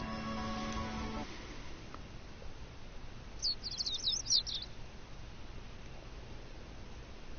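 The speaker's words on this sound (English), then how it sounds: "The sound of birds chirping slowly raises me from my dream into consciousness." Birds chirp in a short, rapid burst of high tweets midway through an otherwise quiet background scene from the steampunk visual novel Code Realize, following a fading steady tone at the start.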